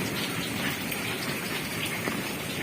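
Heavy rain pours steadily over a grape vineyard garden, a dense, even hiss of drops on leaves and ground with no break, close and loud throughout.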